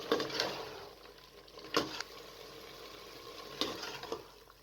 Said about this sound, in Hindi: शलजम डालकर मज़ीद आप 5 से 7 मिनट तक अच्छी तरीके से गोश्त को भून लें